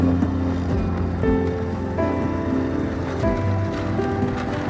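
A motorcycle rides over a sandy dirt track in open desert country, its engine droning continuously with shifting, wavering pitch as it bumps along, loud and close with wind and rattling.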